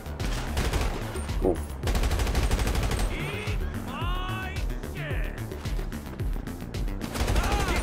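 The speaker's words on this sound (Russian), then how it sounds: "Давненько бодрых перестрелок не было." Gunfire in a GTA Online shootout during a Los Santos Drug Wars mission: dense, sustained rapid shooting that barely lets up, with a brief voice over it.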